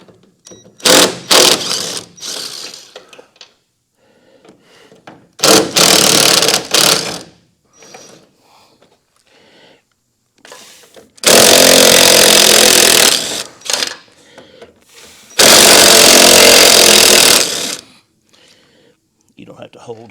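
A power tool removing bolts during an underbelly inspection whirs and ratchets in short bursts, then in two longer loud runs, with quiet gaps and faint voices between them.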